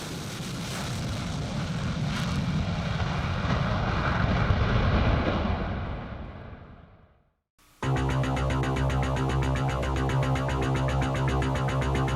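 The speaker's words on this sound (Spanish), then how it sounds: "The McDonnell Douglas F-4 Phantom II is probably the most famous jet fighter of the Vietnam War" A McDonnell Douglas F-4 Phantom II jet fighter roars loudly overhead for about seven seconds, its engine noise swelling and then fading away, followed by an abrupt cut to a steady, tonal, music-like drone.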